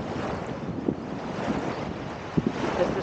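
Wind and waves at Rinconcillo beach in Algeciras form a steady broadband rush of surf and wind noise on the microphone, with a few soft bumps and no voices.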